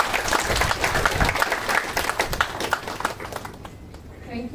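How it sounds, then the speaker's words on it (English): Applause from an audience at the launch event for Incture's Digital Delivery Center in Bhubaneswar, a dense clatter of clapping mixed with crowd noise and some voices, fairly loud before thinning out toward the end. "One round of applause for this program,"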